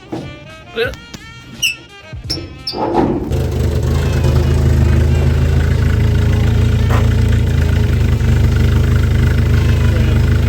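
A 1964 Chevy II Nova engine is cranked and fires, then settles into a loud, steady, rough idle that carries on alone. Brief voices come just before it starts.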